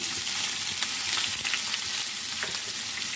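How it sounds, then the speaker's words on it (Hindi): An onion frying in hot oil, a dense, continuous crackling sizzle close up with a few soft stirring taps, alone and steady throughout. "ऑयल गर्म हो चुका है, एक अदद प्याज ऐड कर देते हैं।"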